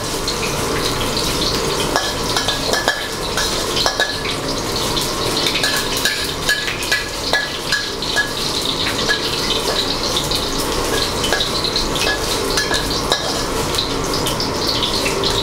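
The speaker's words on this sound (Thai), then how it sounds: "กระเทียมจีนบุบเล็กน้อยก็พอ ผัดให้กระเทียมหอมนะครับ" Crushed Chinese garlic being stir-fried in a wok, a dense continuous hiss of frying oil with light tapping and scraping of the utensil, close and fairly loud throughout, without any voices.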